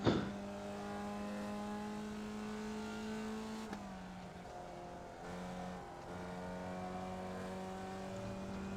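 A Formula Vee race car in the iRacing simulator at Okayama drones steadily at high revs, with one shift point as the pitch drops and climbs again, holding a continuous near engine tone alone.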